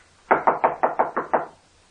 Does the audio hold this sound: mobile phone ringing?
no